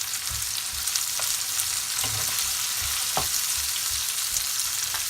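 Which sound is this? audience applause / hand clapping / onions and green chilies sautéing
onions and green chilies sautéing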